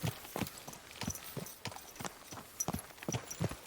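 Horse hooves walking in the medieval game Kingdom Come: Deliverance II, a steady, close clip-clop of irregular hoof falls with no talking.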